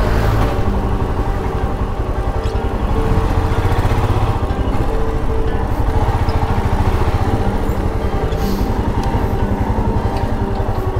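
Motorcycle engine running steadily at a roadside pollution check, a continuous loud mid-pitched drone with a throbbing low rumble throughout, no speech over it.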